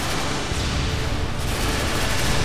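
Dense, loud, continuous gunfire and explosive blasts from a Call of Duty MW2 battle, sustained without pause and with no speech heard over it.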